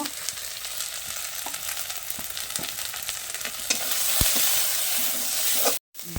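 Spice masala with turmeric and salt sizzles steadily in hot oil in a pan, a loud continuous fry with faint stirring scrapes and a brief cut near the end.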